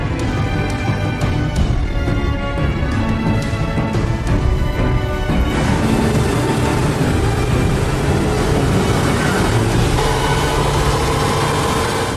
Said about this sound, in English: This is the wind noise box where we simulate the noise of wind.